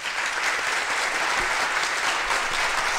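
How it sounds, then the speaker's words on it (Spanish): An applause button sound effect triggered on a live stream, a continuous, even crowd clapping that holds at a steady level throughout. "de esto ahora voy a dar el botón del aplauso"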